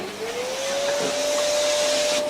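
A dust extraction vacuum pulls wood dust while a Fender Telecaster style bass body is routed in a workshop, a loud steady whoosh with a whine that rises in pitch as it spins up, and no talking.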